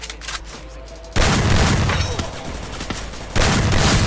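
Burst of gunfire in a video game at close range, a loud sustained volley of rapid shots followed by a second burst, with faint background sound before it.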